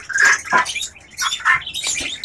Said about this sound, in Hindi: ये ऑस्ट्रेलियन पैरट हैं